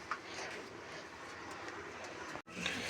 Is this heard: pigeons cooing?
yes